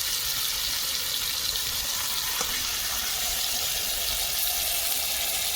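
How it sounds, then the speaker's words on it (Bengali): Fish sizzles in hot mustard oil in a pan, a loud, dense, steady hiss with crackle throughout and no voices. "তেল গরম হয়ে গেছে, মাছ দিয়ে দিচ্ছি।"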